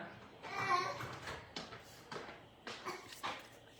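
A pet dog named Zeke whimpers and lets out short yips in a small indoor space, a run of brief high-pitched cries rising and falling, with a voice talking softly over part of it.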